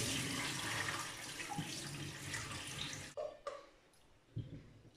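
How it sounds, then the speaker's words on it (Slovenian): Cold tap water pours steadily into a pot for a few seconds, then the flow stops and a few soft clinks and drips follow in a quiet kitchen. "Dodamo mrzlo vodo. Novo. Napolnimo dosti."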